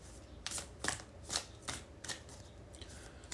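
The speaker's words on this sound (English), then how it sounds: "We have one more card we need to pull" A deck of cards being shuffled for a tarot-style card reading, with several quick riffling bursts about every half second, fairly soft and close, and no voices.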